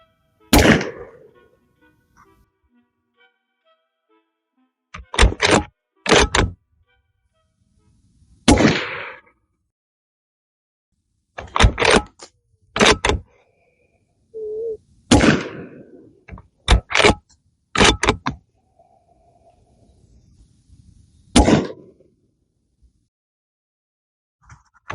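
Five subsonic rifle rounds (Hornady subsonic) fired outdoors, each a loud sharp crack with a short decaying tail, spread unevenly over about twenty seconds with quiet gaps between shots.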